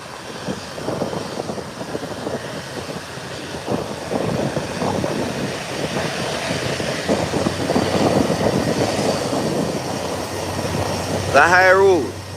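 A private aircraft takes off from the runway at Howard Hamilton International Airport, its engines a steady, distant broadband roar that swells slightly toward the end, with faint voices in the background.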